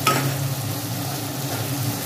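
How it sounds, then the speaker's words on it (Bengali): Small cut capsicum pieces fry in hot oil with an even, close sizzle, opening with a short clatter as they go in or get stirred. "এগুলো ভেজে নেব।"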